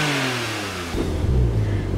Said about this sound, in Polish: Nie mamy nawet żadnego pstryczka elektryczka, który by sprawiał, że brzmienie wydechu będzie bardziej agresywne